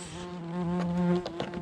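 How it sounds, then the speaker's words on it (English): Yellow jackets buzz loudly and close around a lost honeybee hive box, a steady droning whine with a few sharper passes near the end. "All I see are yellow jackets."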